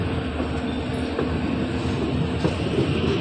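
Diesel-hauled Sabarmati Bhavnagar Intercity Express running on a line with electric poles installed, a steady broadband rumble and rattle of the train heard from on board, continuous and fairly loud throughout.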